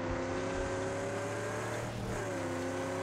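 A car engine in the Mad Max game drones and revs with a sustained, loud tone that dips and climbs slightly, heard alone without speech.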